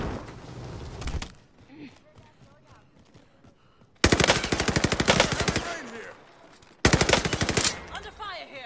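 Video game gunfire rattles in three loud, rapid automatic bursts, separated by short quiet gaps.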